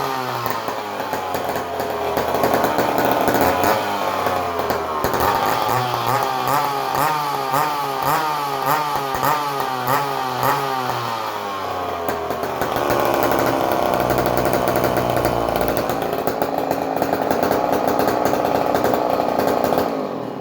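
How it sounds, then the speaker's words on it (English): Old McCulloch Mac 10-10 chainsaw, warmed up, revving with rising and falling engine pitch before settling into a steady buzzing idle, loud and close with no talk. "The saw even idles."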